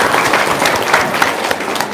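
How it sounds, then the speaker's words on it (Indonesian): Audience applause at a religious gathering, a lively crowd clapping steadily throughout, fairly loud and close. "Tepuk tangan dong."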